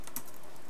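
Keystrokes on a computer keyboard while entering iOS 4.3 app code, a short quiet burst of a few soft clicks close by with no talk over them.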